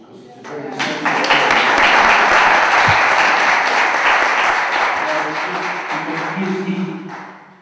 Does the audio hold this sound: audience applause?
yes